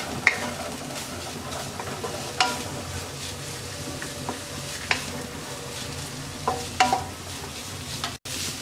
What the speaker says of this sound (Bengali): এবার সবজিটাকে আমরা 2 থেকে 3 মিনিট ভেজে নেব।